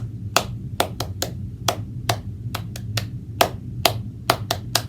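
A group claps along to a sung 'Bingo' children's song at storytime: sharp, bright handclaps land in a loose, steady beat, about fourteen in five seconds, over a low, continuous backing of singing.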